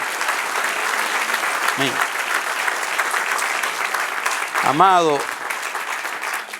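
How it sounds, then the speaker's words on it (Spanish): Church congregation claps through a sermon, a dense steady roar of applause, while a voice speaks briefly over it and another voice rises near the end. "Denle un aplauso al que vive."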